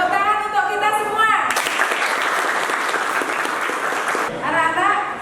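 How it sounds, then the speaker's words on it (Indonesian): A school class of students bursts into loud, steady applause in a classroom lesson, the clapping swelling in after a teacher's voice and fading back as speech resumes at the end. "Tepuk tangan untuk kita semua."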